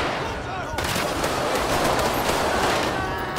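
Automatic rifle gunfire in GTA 5 during a police patrol firefight, a dense, continuous stream of shots with a loud, steady roar filling the whole stretch.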